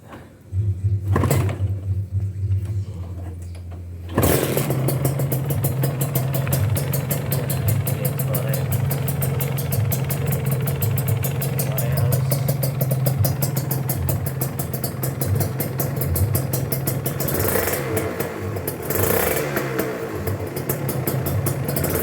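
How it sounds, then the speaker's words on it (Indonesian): A used Kawasaki Ninja two-stroke motorcycle runs near the listener with a buzzy, rattling idle that is revved now and then. A clunk comes early, and the engine holds steady for most of the stretch. "terus kalian harus tes apa namanya, suara mesinnya itu"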